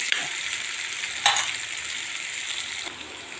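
Paneer and capsicum fry in a hot pan with a steady, close sizzling hiss, broken by one brief louder stir or clatter partway through; no voices.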